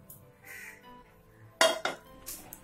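Roasted herbal powder ingredients are transferred onto a plate, making a few sharp scraping and clinking contacts of a utensil against the pan and plate. Two distinct knocks come in quick succession, followed by a lighter scrape, close and without speech.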